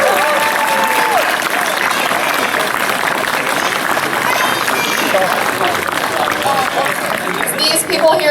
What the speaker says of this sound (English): give a big round of applause to all of the people who are involved with putting this great event together